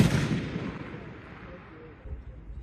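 A single loud rifle gunshot at an F-Class shooting match, a sharp close blast at the start that decays into a long rolling echo, with faint voices in the background.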